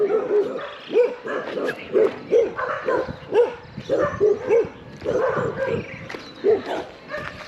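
Several dogs bark and yip repeatedly in a busy, overlapping chorus in Papeete, Tahiti, fairly close and loud throughout.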